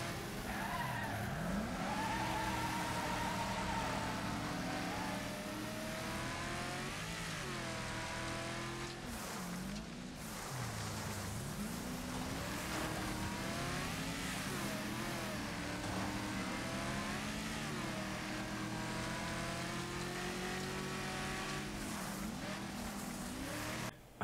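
Race car engines in the video game Wreckfest snarl and rev continuously, with pitch rising and falling through gear changes and tire skids, a steady loud wall of engine noise throughout.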